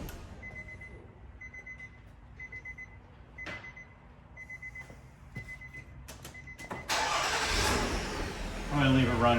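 A car engine left idling during a wheel alignment in a repair shop, a steady low running hum with repeated beeping tones and some clunks, ending in a louder broadband rush.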